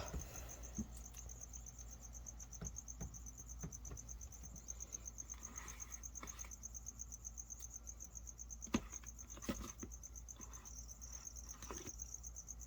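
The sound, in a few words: cricket chirping in a reptile enclosure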